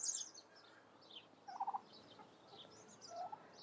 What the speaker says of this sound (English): see they're actually talking to the 2 turkeys that we've separated off